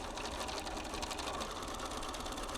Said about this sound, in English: I can then stitch the side seams down at the machine